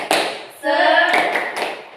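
A school class claps in a brief rhythmic pattern, several sharp claps with voices chanting along in Indonesian, close and loud.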